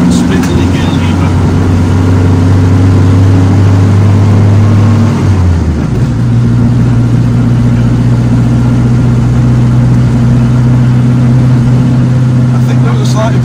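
An old Renault 4CV pulls out from a junction and accelerates, its small engine droning loudly from inside the cabin with a clear gear change partway through, while someone talks over it.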